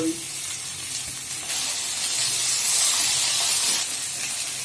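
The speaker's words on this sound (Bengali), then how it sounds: "এখন আমি নাড়াচাড়া করতে করতে শাকটা আমি ভাজি করবো।" Drumstick leaves stir-fried in a pan hiss and steam steadily up close, with soft stirring scrapes and the sizzle swelling slightly midway, no talk.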